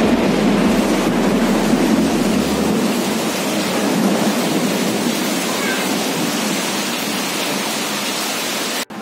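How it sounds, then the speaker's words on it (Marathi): Heavy monsoon rain pours in a loud, constant roar close by, with deep rolling thunder rumbling underneath through most of the stretch before it cuts off abruptly. "पण गडगडतंय जोरजोरात आणि विजा पण चमकतायत"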